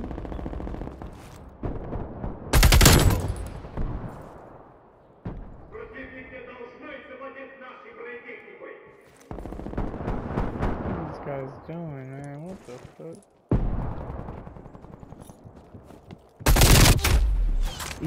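Gunfire in Call of Duty: Black Ops Cold War, free-for-all mode: two loud, sharp bursts of rapid shots near the start and end, with quieter game sounds and tonal effects between them.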